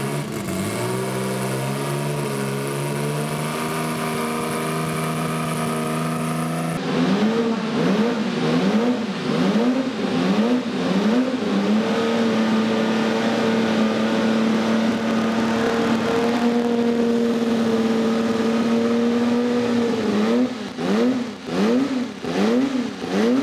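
A historic turbocharged Ferrari 126X Formula One car runs loud and close at a circuit event, first holding a steady high engine note, then revving repeatedly in rising and falling blips, with no voices.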